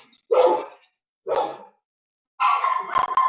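Dogs bark close and loud indoors, three separate bursts of barking with a short silence between the first two. The last burst is longer, with yips mixed in.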